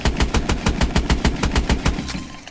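Rapid automatic gunfire from the EPM3 Panorama light machine gun in Call of Duty Advanced Warfare, a steady string of about a dozen loud, evenly spaced shots over two seconds before stopping.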